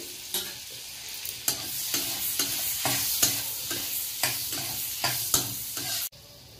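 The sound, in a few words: stirring chopped garlic frying in butter or oil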